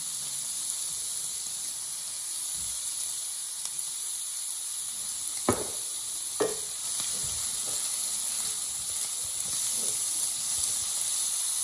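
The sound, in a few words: stirring garlic and herb seasoning in a cooking pan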